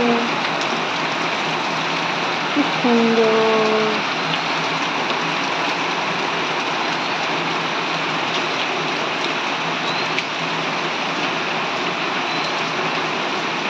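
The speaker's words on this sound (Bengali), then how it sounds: "ঝমঝম করে বৃষ্টি পড়ছে" Heavy rain pours down steadily in a garden with lychee, lemon and ginger plants, a dense continuous hiss close by; a short voice speaks briefly near the start.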